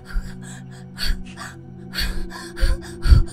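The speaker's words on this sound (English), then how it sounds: "Who's panting?" Breathy gasps and panting in the horror video game 13 Candles come in short irregular bursts, several audible breaths over a few seconds, fairly close and alone without talk.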